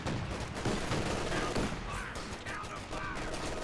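Gunfire in a Company of Heroes 2 battle forms a dense, continuous clatter of overlapping rifle and machine-gun bursts, loud and steady throughout without pause.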